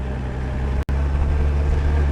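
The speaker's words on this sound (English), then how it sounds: "You can hear the engine straining against the brakes." A Honda Goldwing motorcycle engine runs at steady throttle and strains against the rear brake, giving a constant loud, low drone with one sudden brief dropout partway through.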